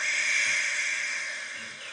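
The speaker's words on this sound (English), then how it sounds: "but Henry only blew steam at him" Henry the tank engine blowing steam, a steady broad hiss that holds evenly for two seconds and fades slightly toward the end, close and fairly loud.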